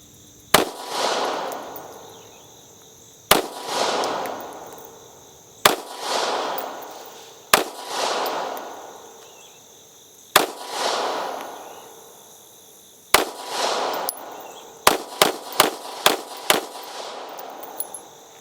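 Gunshots from a Taurus GX4 pistol being test-fired just after a factory recall: loud, sharp reports, first spaced several seconds apart, then a quicker string of shots near the end, each with a decaying echo.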